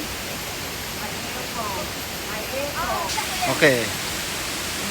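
Hagimit Falls on Samal Island roars as a steady, broadband rush of falling water that fills the scene. Voices talk and call out over the constant wash.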